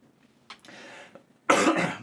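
A few short coughs, one faint burst followed by a longer, rougher stretch, then a loud harsh cough close by; no talking.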